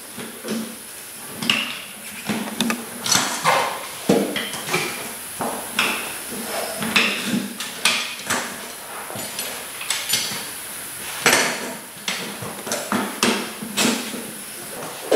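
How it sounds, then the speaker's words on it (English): Loud metallic clanks and thumps from a bead breaker forcing a rubber tire off a metal rim, irregular strikes with creaks and scraping between, close up. "I'll use the beadlock breaker and get the rubber tire off the rim"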